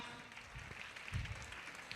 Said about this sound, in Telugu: కరతాళ ధ్వనులతో ఒక్కసారి గట్టిగా చప్పట్లు కొట్టాలమ్మా.